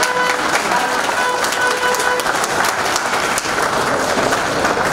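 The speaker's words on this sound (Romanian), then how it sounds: "Haideți să-i aplaudăm." Steady applause from a crowd at an awards ceremony for couples married 50 years in Dărmănești, a continuous wash of clapping that stays loud and even throughout.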